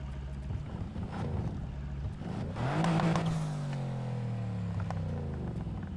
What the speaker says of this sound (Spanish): Sonido del escape.